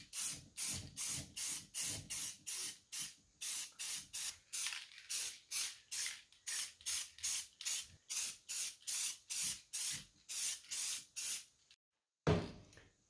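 Spray paint hisses from an aerosol can onto a farmhouse chandelier light fixture in a long run of short, even bursts, each one close and sharp, with a clean pause before a final bit of handling noise.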